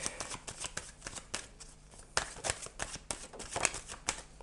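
Tarot cards riffled and flicked in a shuffle, then dealt out one by one: a quick run of crisp, close papery slaps and snaps with no talk over them.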